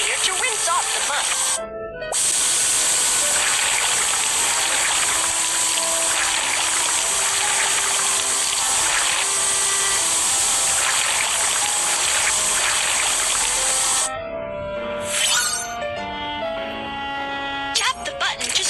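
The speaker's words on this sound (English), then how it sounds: "drag the water sprayer to rinse off the mud" In a cartoon car-wash game, a water sprayer rinses mud off a car with a steady hissing, gushing spray that runs for most of the stretch, broken by short gaps, alongside game music and bright cartoon effects.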